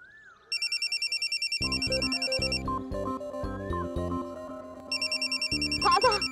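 A phone ringtone plays loudly in a TV drama scene, a repeating electronic melody with sustained high tones, dropping under a denser musical passage midway and then returning to its bright ringing pattern near the end.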